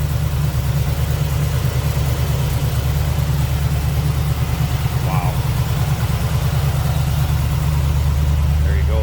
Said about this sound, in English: There it is, 377 stroker, paired up with that Muncie 4-speed.